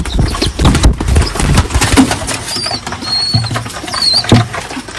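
A sick pigeon, blind in one eye and suffering from pox, makes low soft coos close by, mixed with brief fluttering and rustling movements and a few faint thin background tones.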